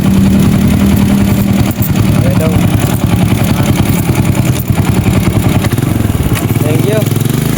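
A motorcycle engine idles close by with a steady low chugging putter, and people talk over it.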